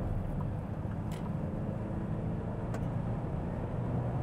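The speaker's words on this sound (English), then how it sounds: "Hang on, I'm gonna pass these trucks here." A steady low road rumble fills the cab while overtaking trucks on a highway, a constant drone with two faint brief high ticks on top.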